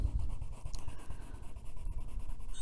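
A colored pencil scratches back and forth across a paper coloring page, quick rhythmic strokes close to the ear with no talking.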